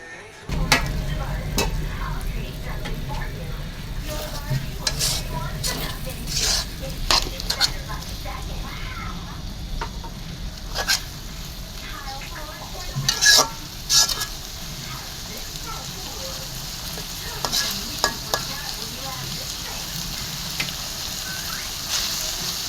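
Beef tripe bhaji sizzles steadily in a pan while a utensil stirs and scrapes at irregular intervals, the frying hiss continuous under the sharper clatter of the stirring.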